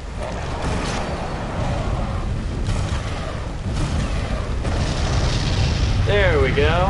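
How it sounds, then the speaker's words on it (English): A wall of fire bursting in the Lego Jurassic World video game, heavy rumbling booms and roaring blasts repeating over several seconds, loud and close, with someone talking over them. "A wall of fire."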